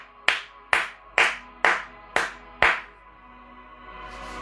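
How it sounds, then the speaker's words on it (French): Six sharp, evenly spaced claps ring out close and loud, each with a short decay, followed by a quiet pause. "je vais vous acclamer"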